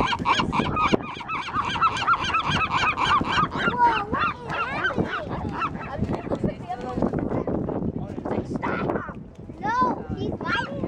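Seagulls fighting on a pier, squawking and honking loudly and continuously at close range while people talk over the commotion.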